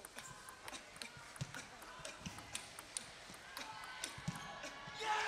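A men's Class 7 Paralympic table tennis semi-final between Britain and Ukraine at London 2012, with a serve and a quick rally of sharp, evenly spaced ball clicks on table and bats, and faint crowd noise rising at the end.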